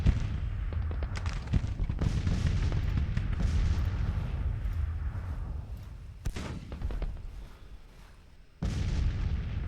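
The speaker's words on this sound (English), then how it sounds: "All these guns are actually firing" Artillery guns fire repeatedly in a Civil War strategy game, a dense run of booming cannon shots with sharp reports near and far and a low rumbling roll between them.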